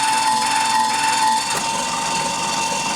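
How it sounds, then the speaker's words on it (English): An automatic deburr and decrimp tool spins against brass primer pockets of .223 cases, giving a steady, close, high-pitched motor whir with a grinding edge that drops slightly in tone partway through. "Empty primer, put it on the Deburr or the Decrimp tool, put it on the clean tool."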